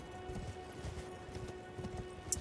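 A horse's hooves clip-clop in the Elden Ring video game, quick soft repeated beats running under a low game ambience for a couple of seconds, with no voices.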